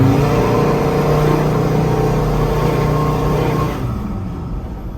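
A Ford Ranger engine with its stock airbox roars under hard acceleration, a loud, sustained rising drone close by that eases off near the end as the throttle lifts.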